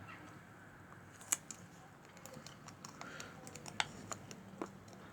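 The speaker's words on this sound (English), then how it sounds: "Put a bit of tape on there." Adhesive tape is wrapped around a small homemade electric-touch gimmick, giving faint crinkling and sticky ticking sounds with a few sharp clicks and crackles, close by in a quiet room.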